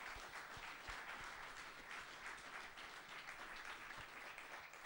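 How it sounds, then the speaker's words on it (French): A studio audience applauds a performer on a French television show, a steady, dense patter of many hands clapping together, fairly distant and even throughout with no talk over it. "vous pouvez l'applaudir encore une fois"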